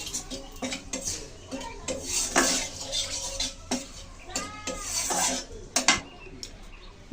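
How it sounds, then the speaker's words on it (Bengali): Dry red chillies and bay leaf tempered in hot oil for a potato and egg curry, with loud clattering of a metal spatula against the pan and faint sizzling beneath, in repeated close bursts. "তেল তো গরম হয়ে গেছে, এখন ফোড়নে দিয়ে দিচ্ছি শুকনো লঙ্কা"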